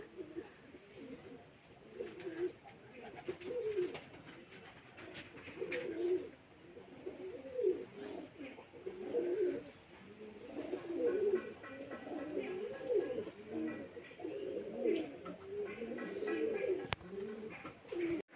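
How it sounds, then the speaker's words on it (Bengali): A flock of pigeons coos steadily in low rolling calls, close and fairly loud, with scattered chirps and wing noise over an overcast outdoor backdrop. "এখন বাজে 1:40 আর পায়রা উঠছে"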